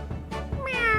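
A cat meows in The Great Ace Attorney Chronicles, two or three short rising mews close up, with a soft game backdrop beneath and no talking.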